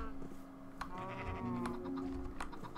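Sheep bleating inside a Minecraft game, several short wavering bleats over a steady background of game ambience and faint clicking, moderately loud throughout.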